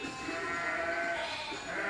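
Ewes on a sheep farm bleating close by in a continuous overlapping chorus of wavering calls, moderately loud throughout.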